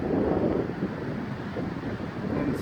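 Wind storm gusting through trees at Grimes Creek on a June day, a steady loud roar of wind and microphone buffeting that swells and eases continuously with no voices.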